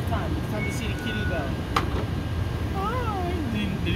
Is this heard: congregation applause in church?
no